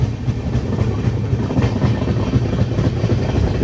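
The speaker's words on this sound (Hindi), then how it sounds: "तो दोस्तों अभी जम्मू तवी से डिपार्ट कर चुकी है हमारी ट्रेन" The 12471 Swaraj Express runs on after leaving Jammu Tawi, heard from on board as a loud, steady low rumble with a faint rhythmic clickety-clack of the wheels on the rails.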